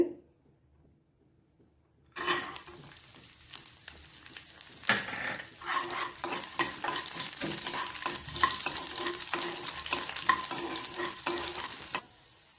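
Garlic drops into hot ghee after a quiet start and crackles into a loud, steady frying sizzle, with sharp pops and spatter. A faint stirring clink comes near the middle, and the sound stops abruptly at the end.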